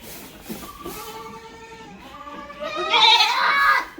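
Boer goats on a goat farm in Assam bleat nearby: a wavering call, then a louder, rising bleat near the end.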